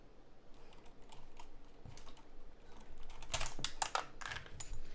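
Computer keyboard keys clatter and click as they are pressed and handled, sparse taps at first then a denser flurry of sharp clicks, close and fairly quiet.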